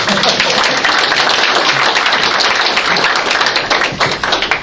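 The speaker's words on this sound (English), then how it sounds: "You can give another round of applause for Kirsten." Audience applause for Kirsten Lombard after a talk, a dense, steady wash of many hands clapping at close range that holds for the whole stretch and thins slightly near the end.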